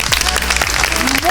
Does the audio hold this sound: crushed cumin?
no